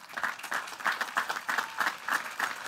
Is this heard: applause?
yes